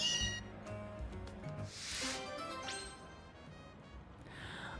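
Meowth, the cat Pokémon in Pokémon Legends: Z-A, gives a game cat cry with meowing tones over background game music and effects, at a moderate, steady level.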